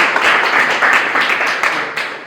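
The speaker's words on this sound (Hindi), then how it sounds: "आप लोग ताली बजा करके इनका स्वागत कीजिए।" An audience at a welcoming ceremony for first-year Ayurveda students at a college ashram claps steadily, a dense, sustained wash of many hands filling the whole moment at close range.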